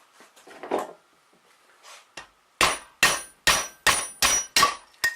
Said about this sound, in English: I'm really going to be hammering on it and pushing just like on one corner